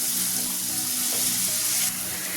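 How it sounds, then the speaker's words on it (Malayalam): Onion sautés with salt in a hot pan, making a steady, close sizzle that runs throughout with faint stirring scrapes and no one talking. "നമുക്ക് ലേശം ഉപ്പ് ചേർത്തൊന്ന് വഴറ്റിയെടുക്കാം"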